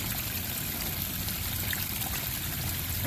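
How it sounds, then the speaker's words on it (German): A garden pond water feature trickles steadily, a constant close splashing and bubbling wash of water with no pauses or voices. "Dann habe ich hier unten eins meiner Wasserspiele."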